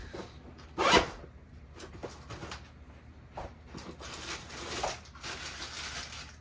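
A bicycle bar bag's zipper is pulled open with one sharp, quick rasp near the start, followed by quieter rustling and handling of the bag and its contents, close by.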